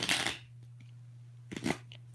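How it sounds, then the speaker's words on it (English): A deck of cards is shuffled in two short bursts of quick riffling, faint and close, separated by a quiet pause over a low steady hum. "Okay, I'm gonna just shuffle once again."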